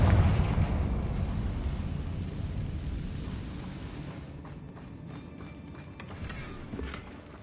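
A Confringo fire spell explodes in Hogwarts Legacy with a heavy, booming burst at the start that fades into a long, rumbling roar, leaving faint crackles behind.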